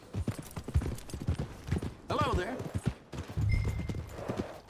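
Horse hooves clip-clop at a steady walking pace on a dirt path in Red Dead Redemption 2, close and continuous beneath a voice and game dialogue.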